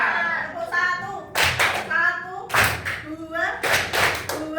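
Students in a classroom clap in sharp, loud group bursts for a counted ice-breaking clap game, spaced in a steady rhythm, with a voice calling out between the claps.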